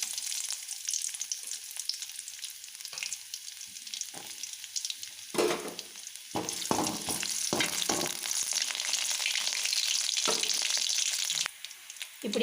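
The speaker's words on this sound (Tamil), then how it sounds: "இப்போ எண்ணெய் நல்லா காஞ்சதுக்கப்புறம் இஞ்சி பூண்டு கொஞ்சோண்டு" Ginger and garlic fry in hot oil with a steady, bright sizzle for about twelve seconds, broken by a few louder crackling bursts as the pan is stirred, close and with no talking.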